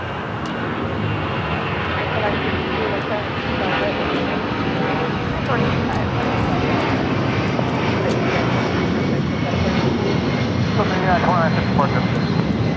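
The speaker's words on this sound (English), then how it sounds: "There we have a Delta 757 now rolling down." A Delta Boeing 757-200 charter jet takes off at LAX, its engines giving a loud, sustained roar throughout, with a person speaking over the noise.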